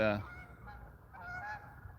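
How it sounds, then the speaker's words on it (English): Geese flying over a creek give a few honks, a sharp close call at the start followed by fainter, more distant honking, with no talk. "there goes 2 more of those geese."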